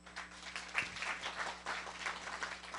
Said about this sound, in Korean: 제 말이 맞으면 박수 한번 쳐주십시오.